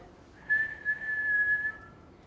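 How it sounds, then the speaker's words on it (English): A person whistles one steady pure pitch, held for about one and a half seconds with a slight wobble, clear and alone over faint room hiss. "Because when we whistle, we're producing only one pitch."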